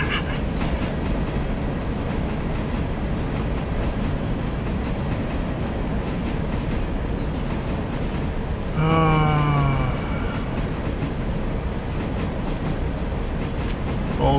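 A train rolling on rails in the video game Railroader, a loud continuous rumble of wheels with a brief squealing screech partway through, and little talk over it.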